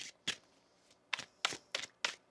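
Tarot cards being shuffled by hand in short, crisp riffling bursts, about five quick ruffles spaced unevenly and heard close and clear with no talking.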